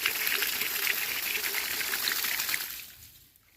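Water gushes from a solar-powered submersible pump, a loud continuous splashing rush close by that cuts off and fades near the end.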